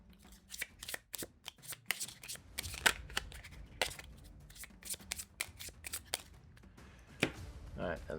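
Playing cards for a board game are shuffled by hand in a run of crisp riffling bursts and taps, close by and fairly loud, with quiet room sound between.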